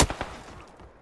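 A gunshot rings out in the video game PUBG, one sharp loud crack at the start followed quickly by a second softer shot, then a fading tail.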